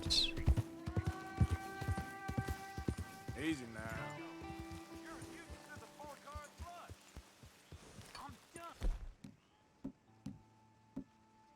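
Horse hooves clip-clop in Red Dead Redemption 2, an irregular patter of thuds under game music and someone talking, thinning out to a few sparse hoof hits near the end.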